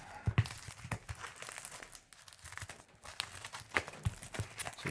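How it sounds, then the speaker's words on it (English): A package holding a Yakut khomus jaw harp is cut open: close crinkling, tearing and scraping of packing material come in irregular bursts, with no speech. "Let's try not to cut anything of value in here."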